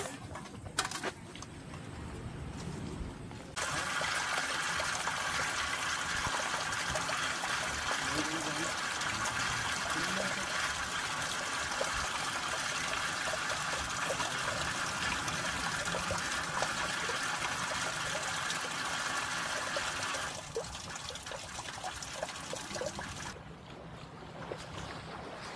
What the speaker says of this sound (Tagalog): Tayo dito sa dagat. Lakas ng alon.